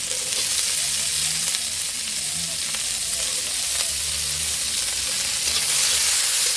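Capsicum and spring onions frying in a pan, a steady close sizzle with occasional stirring scrapes running unbroken throughout, no talk.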